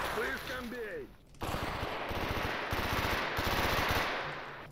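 FAMAS assault rifle fire in a first-person shooter video game: rapid, close bursts of automatic gunfire that keep going for several seconds after a brief quieter moment.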